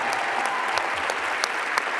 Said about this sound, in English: we gotta give her a round of applause